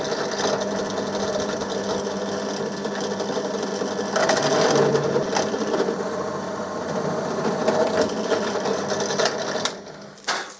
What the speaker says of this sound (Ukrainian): Станочок мій свердільний працює справно.